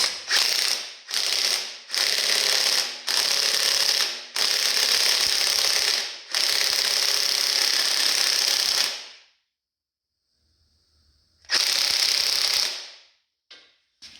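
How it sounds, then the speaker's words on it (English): An impact wrench hammers a bolt on a rebuilt V8 engine in a series of loud, close rattling bursts, several short ones followed by a longer run, then silence and one more burst near the end. "I'm going to use my impact wrench here"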